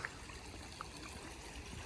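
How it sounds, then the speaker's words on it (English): A small river at a seating area in Woburn Center Parcs flows with a soft, steady trickle, faint and continuous with no other sounds. "Have a little sit there, listen to the river, and chill out"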